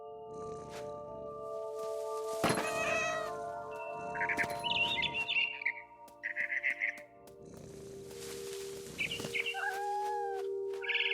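In the video game What Remains of Edith Finch, a cat meows and caterwauls repeatedly at a scared bird, which answers with short chirps and tweets, all over a steady ambient hum.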